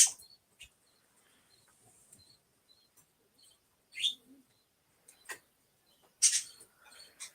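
Several short, high bird chirps and tweets arrive in scattered bursts with quiet gaps between them. They sound fairly close, with no one speaking.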